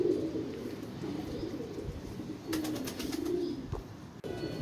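A pigeon coos in a low, rolling voice, repeating its soft call a few times at close range over a faint, steady background hum, with no one talking.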